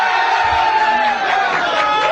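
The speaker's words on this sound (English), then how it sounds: "Listen to the effing crowd." Studio crowd cheering and whooping loudly and continuously for a couple of seconds, a dense wall of voices with no single speaker standing out.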